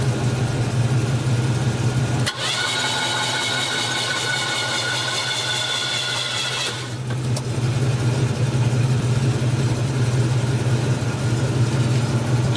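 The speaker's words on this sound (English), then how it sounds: "We're going to see if this engine's going to spin or if it's locked up." 1995 Oldsmobile 88 with its 3.8L engine cranking over with the spark plugs removed, a loud steady mechanical whir under a strong low hum, with a brief pause partway and a distinct clunk as it stops.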